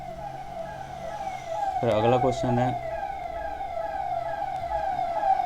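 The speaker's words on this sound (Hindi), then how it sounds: "यहाँ तो दिन भर एम्बुलेंस की आवाज़ आती रहती है" A siren wails steadily from outside, rising and falling in pitch at moderate distance through the whole stretch, with a voice talking briefly over it in the middle.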